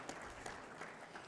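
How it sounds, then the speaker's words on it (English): Audience applause at the close of a soil chemistry presentation, a steady wash of clapping held at a faint, distant level for about a second. "first an applause to Daniel too."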